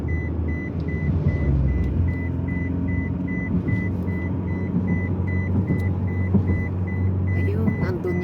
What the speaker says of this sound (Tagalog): Marami ding mga trucks dito na dumadaan.